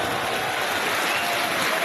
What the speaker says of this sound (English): Look at the crowd, they're going wild.